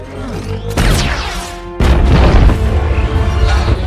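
Floodwater drives a ship into a shelter in a film scene: two heavy crashing impacts, the second louder, followed by a sustained roaring rumble of wreckage and rushing water.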